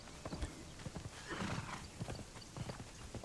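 Horse hooves clip-clop in a steady rhythm with a neigh rising briefly in the middle, from a horse in the survival video game Conan Exiles, close and moderately quiet with no talk.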